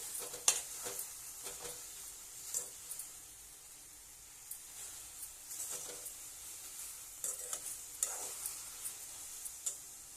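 Red chutney ingredients roasting and being stirred in a pan, a quiet dry sizzle with intermittent scrapes and light clicks of a spoon against the pan, spaced irregularly.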